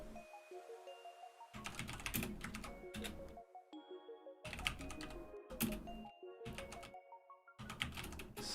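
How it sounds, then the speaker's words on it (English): Typing on a computer keyboard while coding, close bursts of rapid key clicks separated by short pauses, crisp and fairly loud with no talking. "haven't coded much on this keyboard. I keep mistyping."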